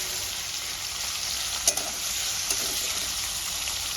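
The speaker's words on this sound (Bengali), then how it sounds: "পনিরটাকে আমি লাল লাল করে ভেজে নেব।" Paneer seasoned with black pepper and salt fries in oil, giving a steady, close sizzle with a couple of brief clinks partway through.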